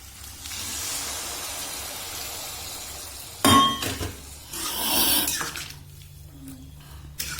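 Hot water poured into a pan of ghugni cooking with mutton fat: a sudden loud splash and hiss, then a second gush of water and metal clinks as the pan settles, with no talking.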